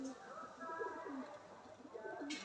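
Low, soft coos from short-faced pigeons repeat in a gentle rolling rhythm at close range in a loft, faint under a quiet background.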